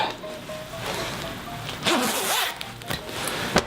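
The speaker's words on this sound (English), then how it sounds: "Let's just zip this up." Zipper on a Mountain Life jacket drawn up close by, a short scratchy run with a louder pull near the end, no voices.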